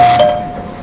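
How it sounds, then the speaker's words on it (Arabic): An electric bell wired into a household circuit rings with a loud, steady metallic tone that fades out over under a second. "الجرس اشتغل"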